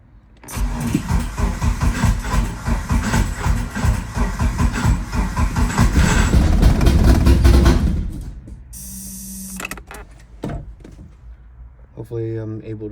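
A Mitsubishi 4G63T turbo engine cranks and fires, then runs with a loud, rough, uneven rumble for several seconds before cutting off. Clicks and a voice follow in the quieter stretch.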